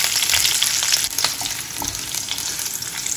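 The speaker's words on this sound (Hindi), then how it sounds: "मेथी को हमें तेज गैस पे फ्राई करना है लाइट क्रिस्पी होने तक" Fenugreek leaves fry in hot oil over a high flame for a Jain malai methi matar curry, giving a dense, steady sizzle close by with light stirring and no voices.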